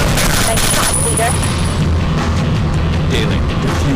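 A loud explosion rumbles and crackles in Rainbow Six Shadow Vanguard, a dense booming blast sustained over several seconds amid chaotic game noise, with voices present.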